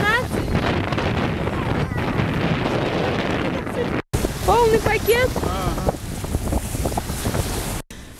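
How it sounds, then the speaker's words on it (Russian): Strong wind blowing at the sea in Kamyshevatskaya on the Sea of Azov, roaring steadily into the microphone as loud, continuous buffeting noise, while people talk briefly over it. "это уже ветер какой-то нехороший"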